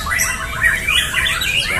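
Bright, varied birdsong of a white-rumped shama warbles continuously, with rising and falling whistled phrases over a steady low background hum.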